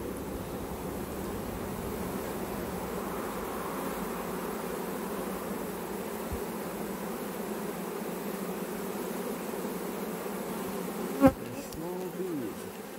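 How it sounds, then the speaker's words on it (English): A dense, steady buzzing of a swarm of small dark bees fills the whole stretch, many wings droning together close by, with one brief sharp knock near the end. "Small bees. Swarm quite dark, aren't they?"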